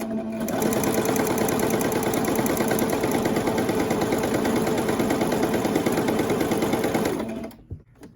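A sewing machine stitches a lettuce hem in black thread, running loud and steady at an even rapid pace for about seven seconds, then stops abruptly.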